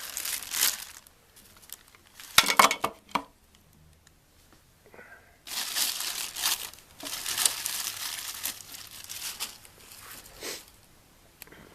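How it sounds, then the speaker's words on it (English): Bursts of crinkly plastic rustling, bubble wrap around a Husky 800-lumen LED portable worklight being handled close by, with a quieter gap in the middle before longer stretches of crackling. "it has this bubble wrap wrapped around"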